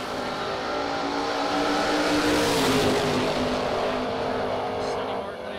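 Dragsters roar down a drag strip in one loud, continuous engine blast that builds slightly midway and holds steady before easing off at the end.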